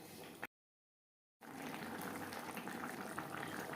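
Rohu fish head curry with potatoes simmering in a pot, a close steady bubbling and hissing of liquid, briefly cut to silence before the boiling resumes evenly.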